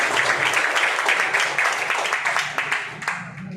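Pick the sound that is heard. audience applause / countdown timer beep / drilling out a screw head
audience applause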